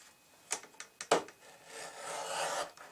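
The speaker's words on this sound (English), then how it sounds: "I'm going to do that real quick. I got my trimmer right to my left." Paper trimmer slicing through cardstock for a stamping craft project, giving a few quick scraping rasps followed by a longer, steady sliding cut that fades out, close and moderately loud with no talking.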